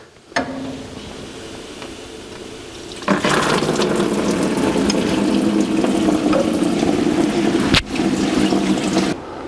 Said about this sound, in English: Next, let's drain the driver's side of the block.